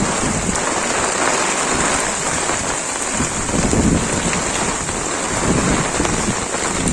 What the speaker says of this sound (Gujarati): હવે મિત્રો વરસાદ ચાલુ છે